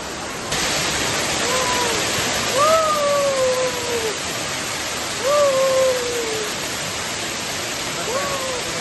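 A waterfall roars as a steady, close wash of rushing water, with a few short rising whoops or calls riding over it now and then.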